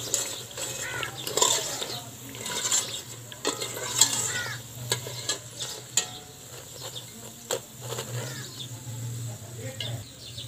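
Aloo pakoras frying in oil in a pan, a steady bubbling sizzle with stirring clatters and a few sharp spoon-on-pan knocks scattered throughout, fairly close.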